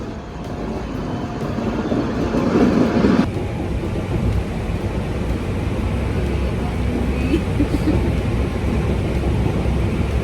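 Steady rumbling roar of a train coming into a station, loud and continuous, with a brief louder swell early on and a faint voice in the background.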